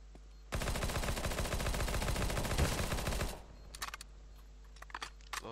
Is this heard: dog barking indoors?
no